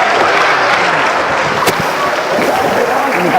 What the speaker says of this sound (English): give these folks a round of applause if you don't mind,